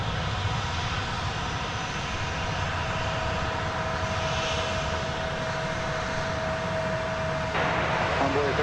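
Airliner engines roar at DFW Airport as a loud, steady jet rumble and whine fills the air without pause, with faint radio chatter underneath.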